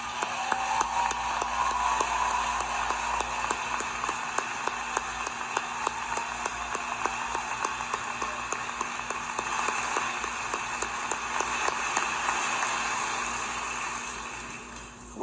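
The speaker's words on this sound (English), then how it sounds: "well-deserved round of applause" Ceremony audience applauds standing young scholars being honored, a long, even patter of clapping with sharp individual claps standing out, steady for most of the stretch before easing slightly toward the end, no talk over it.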